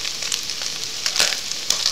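Garlic and green onions fry in hot fat for dirty rice, a continuous close crackling sizzle with a few sharper pops.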